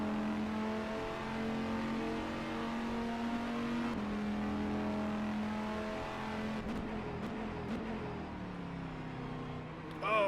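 Race car engines in the rFactor 2 sim racing game hold a continuous high droning whine that rises and falls with gear changes, loud and steady throughout a league race.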